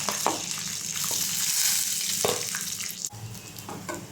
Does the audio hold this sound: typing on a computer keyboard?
no